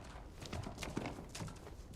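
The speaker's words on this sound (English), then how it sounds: "it literally just sounds like there's a horse clopping around" Hooves of a horse in the Silent Hill 2 Remake video game clop in an uneven walking rhythm, faint and close, over a dense low rumble of game ambience.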